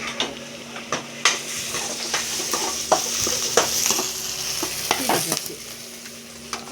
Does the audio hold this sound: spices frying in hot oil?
yes